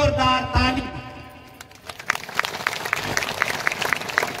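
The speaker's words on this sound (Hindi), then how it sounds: "इसके लिए बनता है एक बार जोरदार ताली।" An audience claps at a Chhattisgarh government mass wedding scheme event, starting with a man on a microphone and then breaking into a scattered round of applause that carries on to the end.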